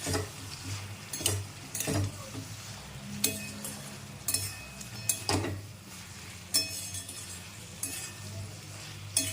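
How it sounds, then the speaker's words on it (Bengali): Chicken pakoras go into a simmering sauce for chilli chicken in a pan, with bubbling sizzle, clinks of a utensil against the pan and stirring scrapes repeating at close range. "এবার সসটা একটু ফুটে গেছে, এর মধ্যেই চিকেনের পকোড়া করে রেখেছিলাম, এইগুলো দিয়ে দিয়েছি।"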